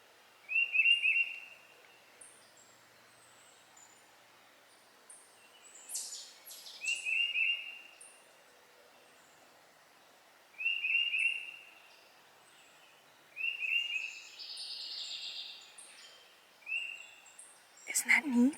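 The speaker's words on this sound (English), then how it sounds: "you can hear the birds around me" Small birds chirp in a quiet backyard, giving short repeated bright calls in separate bursts every few seconds, moderately distant against a hushed background.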